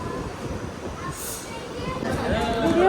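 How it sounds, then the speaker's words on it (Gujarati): A train pulls into a London station with a low rolling rumble that grows louder near the end, a brief high squeal of wheels, and people talking nearby. "અમારા લોકોની ટ્રેન આવી ગઈ છે જવા માટે"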